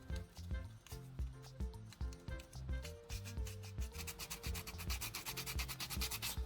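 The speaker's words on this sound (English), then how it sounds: "Use a coarse grit, such as 80, to clean the external terminal contacts of the battery pack." Coarse 80-grit sandpaper with WD-40 rubs quickly and steadily across the metal terminal contacts of a battery pack, a close, continuous rasping scrape with a rapid back-and-forth rhythm.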